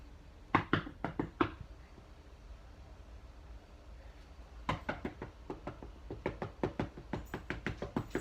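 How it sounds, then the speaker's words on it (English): Knocking on a door in two separate bursts: a quick run of four or five raps, a pause, then a longer, steady series of knuckle knocks, fairly close and crisp. "I'm gonna knock on the door"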